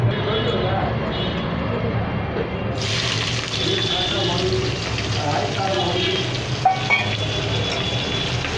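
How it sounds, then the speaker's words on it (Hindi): Onions added to hot oil with whole spices, frying into a steady, dense sizzle that swells louder partway through and continues, with occasional small clinks, while a person talks over it. "अब इसमें प्याज डालेंगे।"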